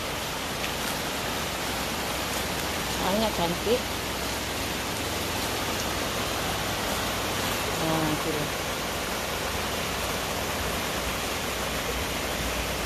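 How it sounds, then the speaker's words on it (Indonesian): A rushing river at the confluence of two rivers near a Malaysian eco resort roars as a dense, steady wash of water noise throughout, with a person speaking briefly under it. "So ini pertembungan dua sungai dari situ."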